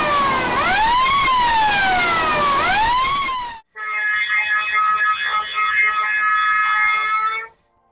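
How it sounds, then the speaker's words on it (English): A drilling rig's fire alarm sounds: a loud electronic siren sweeps up and down in pitch, then after a short gap switches to a steady, harsh multi-tone blare. "These are the alarms in case of fire."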